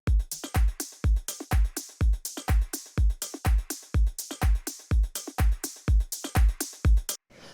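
An electronic drum loop with punchy kicks and bright snare and hat hits in a steady, repeating groove, clear and upfront with no talking.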